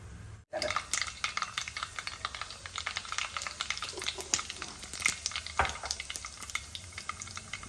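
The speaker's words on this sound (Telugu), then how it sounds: "ఇందులో మనం ముందుగా ఆవాలు వేద్దాం" Mustard seeds crackle and pop in hot oil in a pan with plenty of oil, with sharp spattering bursts throughout. The sound is close and busy, and a few stirring scrapes mix in.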